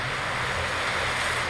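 Rushing waterfall in Fortnite, a broad, steady roar of falling water filling the whole moment, loud and continuous with no talking over it.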